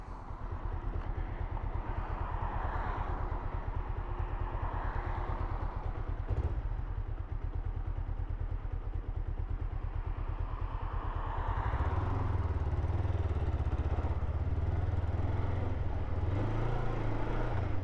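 A motorcycle engine in a workshop ticks over at a steady idle, then is revved up to around 2000 rpm and held, the note rising and thickening, close and loud with no talking.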